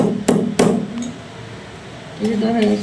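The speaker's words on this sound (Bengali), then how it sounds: "রসুন বেটেও দিতে পারবেন এগুলো ছেঁচাও দিতে পারবেন" Garlic is pounded for a raw taro-paste dish: two sharp, loud thuds land close together near the start, and faint speech follows after them.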